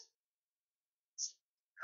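A sneeze bursts out at close range, with short breathy sounds just before and after it and silence between them.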